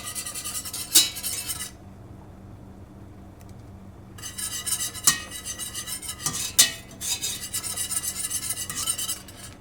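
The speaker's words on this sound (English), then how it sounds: "You want to just add in a little bit at a time and just whisk it in." A whisk scrapes and clinks around a pot as brown rice flour is worked into vegan gravy, a steady close stirring rasp that pauses briefly before resuming, with a few sharper metallic taps against the pan.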